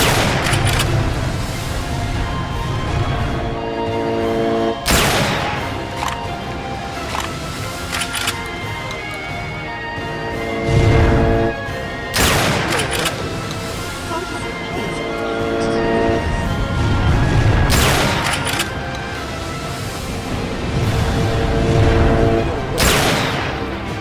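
A Junker Musket firing in the video game Ashes: Afterglow, loud heavy shots spaced several seconds apart over a steady rumbling background, with someone talking throughout.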